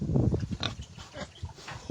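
Pigs kept at a rural country home give short, close grunts and snorts in a brief irregular burst.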